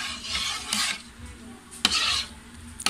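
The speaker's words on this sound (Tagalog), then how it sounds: "Guys, haluin lang natin siya ng mabuti." A fruit cocktail graham cake mixture being stirred, two or three distinct bursts of wet scraping and swishing, with a sharp utensil knock against the bowl partway through.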